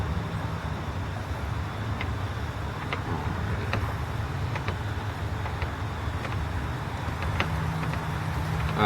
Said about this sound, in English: we're just going to get the motor to run and hopefully throw the cable out here in a moment